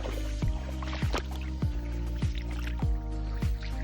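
Someone wades through a flooded paddy field, each step a wet squelching splash with a dripping slosh, about six steps at a steady walking rhythm, close by.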